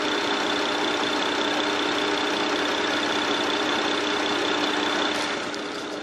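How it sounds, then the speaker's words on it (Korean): A fifth-generation BMW 740i engine idles steadily with a smooth, even hum and a faint mechanical whine, close and continuous, with no voices. "바로 엔진 소리 한번 들려드릴게요."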